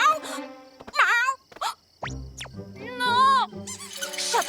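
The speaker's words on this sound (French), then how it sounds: "Sapristi, une souris!" Cartoon mouse squeaks and wailing, high-pitched character cries in several short bursts, with animated voices and gaps of silence between them.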